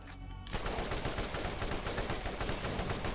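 A low fire-rate gun in the video game Borderlands fires a dense, continuous burst of loud, close gunshots after a brief quiet moment at the start, with no voices.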